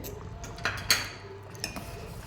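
A utensil clinks against a pot while egg is stirred into mutton soup, producing a few sparse, light metallic taps over a low background hiss.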